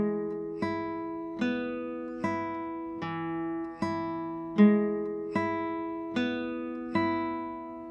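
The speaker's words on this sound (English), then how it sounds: "we're going to pluck the first string as an open string with the middle finger" A classical guitar plays the opening of Malagueña: thumb-plucked notes alternate with the open first string plucked by the middle finger, eight evenly spaced ringing attacks, each decaying before the next, clear and close with no talking.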